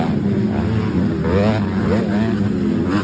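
Raptor 125 with its exhaust fully removed, revving loud and close at an off-road event, the engine note rising and falling with shouting voices over it.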